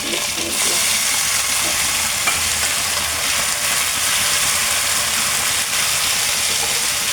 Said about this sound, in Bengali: আমি এখন পাট শাকটা ভেজে নেব তেলে।